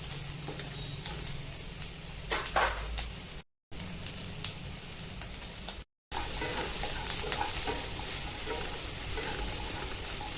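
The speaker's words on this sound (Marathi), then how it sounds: "आता त्यामध्ये बारीक उभा चिरून घेतलेला कांदा आणि टोमॅटो आपण छान भाजून घेणार आहोत।" Finely sliced onion and tomato fry in half a spoon of oil in a kadai, giving a steady close sizzle with occasional scraping and stirring, broken by two short silent gaps.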